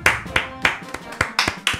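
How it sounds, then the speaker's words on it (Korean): Audience clapping at an online shooter game event interview, heard as a burst of separate, uneven claps from a few people nearby, with short pauses between them and voices mixed in. "박수."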